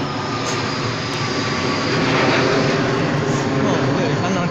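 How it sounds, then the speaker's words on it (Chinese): An airplane engine roars steadily overhead near a seaplane airport, a loud, broad rushing drone that fills the whole stretch and swells slightly toward the middle. "哦，都听到飞机的声音。"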